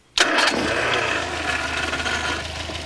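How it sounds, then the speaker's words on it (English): A petrol car engine catches abruptly after a brief crank and settles straight into a steady, fairly loud idle that holds on alone. "The engine's improved enormously since 1900. It starts at a flick of a switch."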